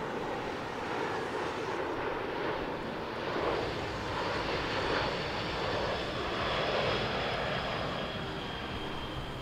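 A C-17 military transport aircraft flies past at the Barksdale Defenders of Liberty airshow with a loud, sustained jet engine roar that swells and eases gently without a break.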